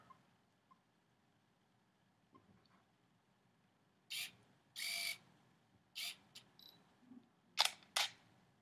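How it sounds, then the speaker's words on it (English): A Canon T4i DSLR fires its shutter at slow speeds: several crisp mechanical clicks in a quiet room, single and paired actuations with longer gaps between the opening and closing snaps. "You see how the shutter is getting slower and slower and slower as I change the shutter speed?"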